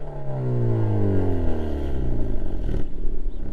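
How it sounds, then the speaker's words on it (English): Exhaust of a 2021 Hyundai Veloster N manual hot hatch with twin large pipes, revving in loud rising sweeps that drop off with crackles and pops near the end, close and alone. "And they are loud, they crackle, they pop,"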